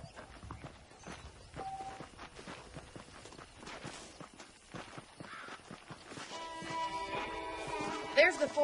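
In Red Dead Redemption, saddled horses clip-clop slowly over the ground in soft, irregular hoofbeats, with crows cawing nearby and people speaking over the sounds.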